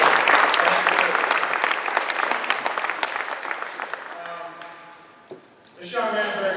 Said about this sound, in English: I should go to round of applause and congratulations every single one of you